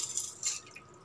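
Gold jewellery being rinsed in clean water, with soft splashing and dripping that comes close up for about a second and fades toward the end.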